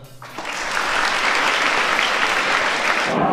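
Scouts at a secondary-school scout camp break into applause, building quickly from a quiet start into a steady, dense burst of clapping that continues to the end.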